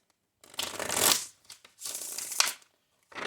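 A deck of tarot cards is shuffled in two long, close riffling bursts, followed by brief clicks and the start of a third shuffle.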